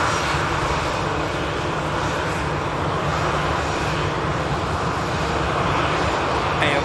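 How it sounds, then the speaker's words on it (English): An EasyJet Airbus A320 from Palma lands at Manchester Airport, its engines producing a loud, sustained rumbling roar that holds steady throughout, with no speech. "this is the EasyJet from Palma, the standard 320. Did just see the 320 on touchdown"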